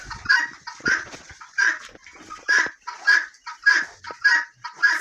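Guinea fowl and other poultry calling on a farm, a series of loud, close, rhythmic harsh squawks repeating roughly every half second, with no talking.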